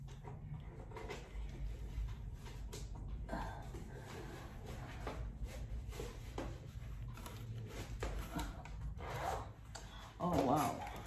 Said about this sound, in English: And it's got a zipper inside.